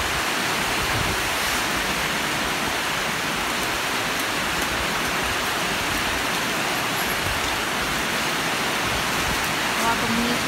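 Heavy rainwater rushes steadily through an opened drainage channel near an elephant enclosure, a dense, continuous broadband wash of flowing water and rain with no pauses.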